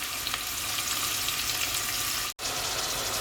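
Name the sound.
onions frying in a pan for meat pulao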